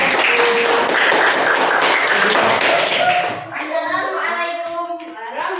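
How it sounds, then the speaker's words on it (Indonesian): A classroom group claps for group one at a school presentation, a brief burst of hand claps and taps mixed with children's voices and chatter, fading into talk. "Tepuk tangan buat kelompok satu."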